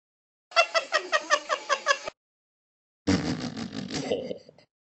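Cat sounds from the Talking Tom video game: a rapid run of about eight rhythmic, meow-like pulses, a pause, then a longer, rougher, noisier cry that trails off.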